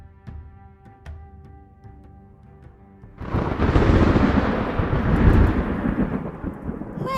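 Theatrical thunder effect in a stage performance of Macbeth: after a sustained musical drone, a loud deep rumble swells in and rolls on for several seconds, broad and booming with a rain-like wash.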